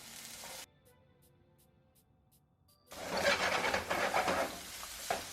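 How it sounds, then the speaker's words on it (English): Onions hit hot oil in a non-stick frying pan and break into a loud, crackling sizzle after a quiet stretch, spitting and popping close up with no voices. "Hear that sizzle?"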